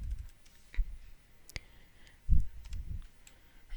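Computer mouse buttons clicking sharply while working in Flash animation software, a few isolated crisp clicks spaced apart over low room rumble, no speech.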